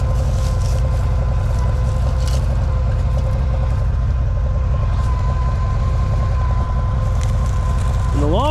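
A Farmall 460 tractor engine running while planting oats, a loud steady low rumble with a constant droning hum heard up close and continuously, with a brief rising whine near the end.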